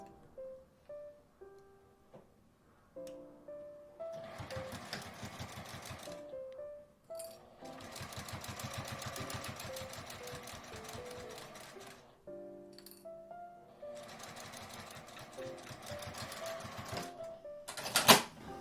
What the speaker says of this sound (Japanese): 反対側も縫います。